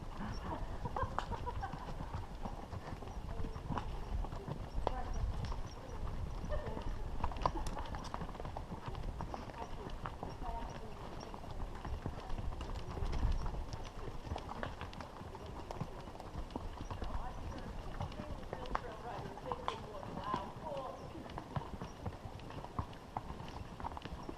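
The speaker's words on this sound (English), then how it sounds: "The two horseshoes, his back leg and front leg keep kicking. Oh, it's interfering. And it's sounding like a cowbell." Shod horse hooves strike the ground in a steady clip-clop, back and front shoes knocking together with a clanking ring like a cowbell, continuous and fairly close throughout.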